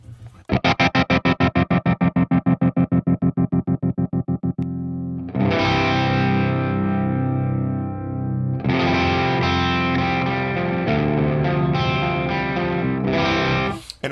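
A ToneX modulation effect on electric guitar sweeps its LFO shape from sine toward square, first as a fast choppy stuttering pulse on a sustained chord, then as held, swelling chords with a steadier warbling texture, loud and alone.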